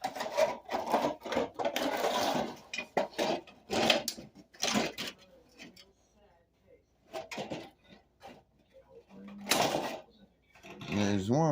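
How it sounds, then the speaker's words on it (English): Pliers pull staples out during a register vent installation, giving irregular bursts of close scraping, tugging and clicking, separated by brief quiet gaps. "Let's try and take these staples out."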